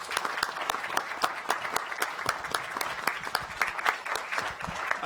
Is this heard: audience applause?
yes